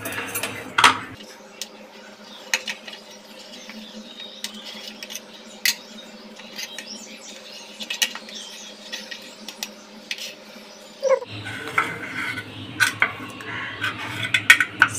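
Utensils clatter as steamed idli are taken out of the steamer, with sharp metallic clinks and scrapes scattered at irregular intervals over a low background hum, busier toward the end.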